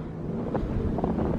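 A light wind blows across a snowy outdoor setting in Japan, with huts nearby. It makes a steady, close rumble over the microphone and keeps going without a break for the whole moment. No one speaks.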